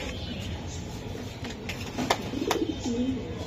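Pigeons, a male and female pair, coo softly in short low phrases near the end, over steady background noise with faint human sounds.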